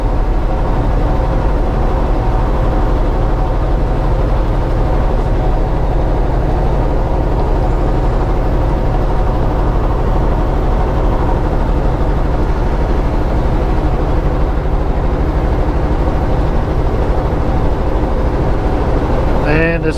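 A truck engine drones steadily after a half-gear change, a loud, close, continuous low rumble from inside the cab with no break.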